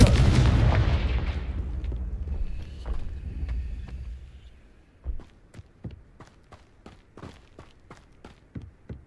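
In the Hogwarts Legacy video game, a Confringo spell explodes with a big booming blast that rumbles and fades over several seconds, followed by a run of sharp, rhythmic clacking hits like quick footsteps.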